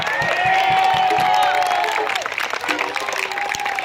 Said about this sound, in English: Please give a round of applause to the people putting this event on right now.